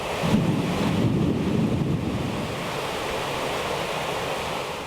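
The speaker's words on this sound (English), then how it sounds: "as you can see, it's raining" Steady rain falls outdoors in Fort Myers, a continuous broadband hiss with gusty wind buffeting the microphone, loud and unbroken throughout with no voices.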